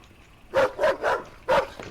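A dog in a video game barks and snarls in four loud, close bursts with short gaps between them, as if it is lunging to attack.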